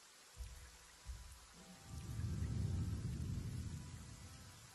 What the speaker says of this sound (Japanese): なんか雨ひどくなってない？